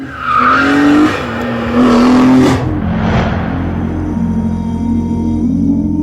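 A BMW M3 CSL corners hard, its engine loud and near as the tires squeal in long wavering howls, easing into a steady engine drone afterward.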